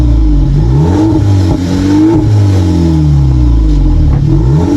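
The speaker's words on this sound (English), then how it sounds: "twin exhaust pipes which sound a little something like this." The engine of a 2020 VW Polo GTI revs through its twin exhaust pipes, loud and close, the pitch rising and falling in repeated throttle blips with a throaty rumble and slight mechanical clatter.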